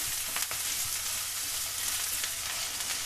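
Onions and mixed vegetables sauté in a pan with an even, close frying hiss and occasional soft stirring ticks, with no voices.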